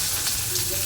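Curry leaves sizzle in hot oil with crushed garlic, a brief steady crackling hiss close by with no talk over it.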